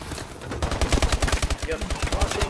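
Rapid submachine gun bursts ring out in a Call of Duty Advanced Warfare Hardpoint match, a dense rhythmic rattle of close shots that builds and keeps firing.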